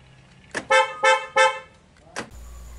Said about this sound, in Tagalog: narinig nyo naman na gumana na yung unlock